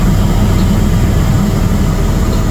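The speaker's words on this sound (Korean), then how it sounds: "해마다 약 10만 명이 이 헬기를 타는데 리처드 브랜슨 경, 가수 엘튼 존, 배우 러스 크로, 골프의 신화 그렉 노먼 같" A sightseeing helicopter over Niagara Falls, a loud, steady engine and rotor roar heard from inside the cabin, constant broadband rumble with no talking.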